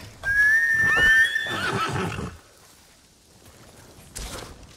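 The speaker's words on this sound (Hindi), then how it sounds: "हाँ तू, घोड़ा," A horse in the video game Ghost of Tsushima gives a loud, close whinny with a rising squeal, followed by snorting and a few hoof clops, then a quieter stretch and a final thud.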